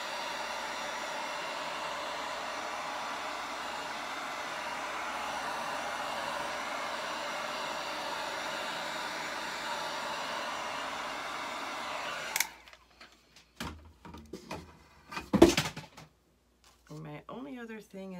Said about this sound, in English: I'm gonna take my heat gun to it.